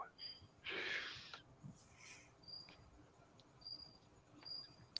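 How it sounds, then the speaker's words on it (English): Crickets chirping outdoors in Indiana, thin high repeated trills spaced across a quiet night background, fairly faint, with some louder rustling bursts and other brief noises in between. "got crickets everywhere around here"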